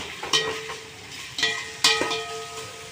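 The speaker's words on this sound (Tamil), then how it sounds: "வெங்காயம் நல்லா அந்த எண்ணெய் பிரிஞ்சு வர வரைக்கும் வெங்காயம் நல்லா வதங்கணும்" Onions sautéing in oil for chicken biryani, a soft continuous sizzle broken by three sharp stirring knocks against the pot.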